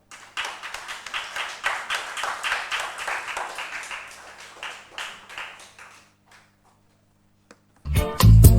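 An audience applauds quiz contestants at the end of a round, a dense burst of clapping that gradually thins and fades into near silence before a sudden loud noise cuts in at the end.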